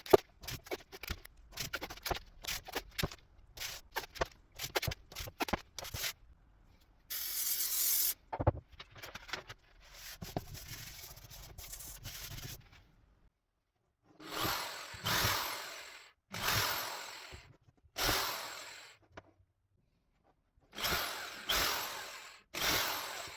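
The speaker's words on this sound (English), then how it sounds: "We sprayed our glue on." Spray glue being sprayed onto recycled MDF, quiet hissing bursts of varying length separated by pauses, with handling clicks and rustles in between.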